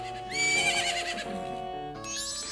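A horse in The Legend of Zelda: Majora's Mask gives a loud, clear whinny with a pitched, wavering neigh, then a second shorter whinny near the end over a sustained musical backdrop.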